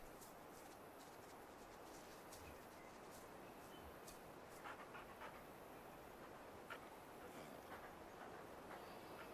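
A hunting dog pants steadily in Way of the Hunter 2, a soft continuous rhythmic breathing under a constant outdoor ambience, with faint scattered clicks and no talk.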